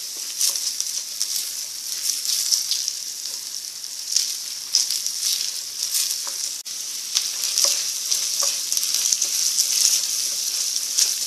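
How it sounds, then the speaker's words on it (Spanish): Corn kernels fry in a pan with a dense, steady sizzle and crackle, punctuated by small pops and occasional stirring scrapes, close and continuous without speech. "Vamos a dejar que se fríen bien."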